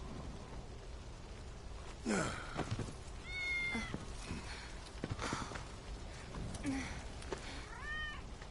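A cat in the Final Fantasy 7 Remake video game gives a few soft meows spread across the stretch, faint and intermittent among quiet game ambience with occasional breathy sighs.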